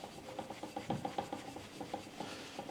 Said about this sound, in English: You just want to rub it down with a cloth.